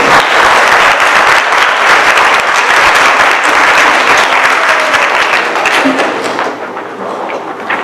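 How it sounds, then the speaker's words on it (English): A school board meeting audience breaks into loud, dense applause, many people clapping together, with a few thumps mixed in, then tapering off near the end. "a round of applause"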